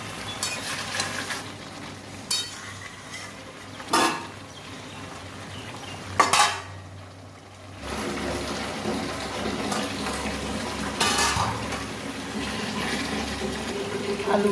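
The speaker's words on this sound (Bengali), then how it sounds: "এবারে মাংস কষে নেব।" Mutton stirred and sautéed in a pot, a steady low sizzle with occasional scraping stirs and clanks of a spoon against the pot throughout.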